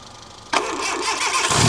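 A Fiat car engine cranks with a sudden burst of starter noise, catches and settles into a close, steady idle.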